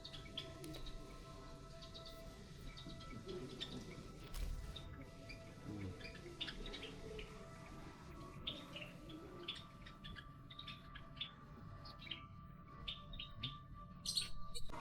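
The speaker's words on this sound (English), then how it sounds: "we caught these tiny green birds right in the middle of breakfast" Tiny green birds chirp in a zoo video game aviary, scattered short tweets and calls over a low ambient hum, fairly faint with no talk.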